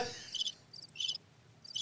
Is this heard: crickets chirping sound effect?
yes